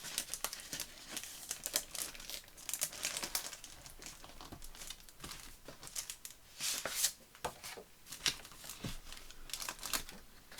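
Sheets of paper and card are crinkled, creased and shuffled close by in irregular bursts of dry crackling while crafting a planner cover, with no talk over it.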